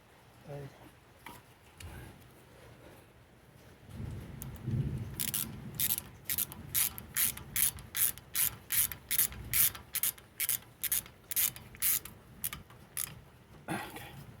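A ratchet tightens the brake caliper bolts on a 2005 Mercedes-Benz with ABC suspension: a steady run of about twenty sharp, evenly spaced clicks, loud and close. Low mechanical rustling comes before it.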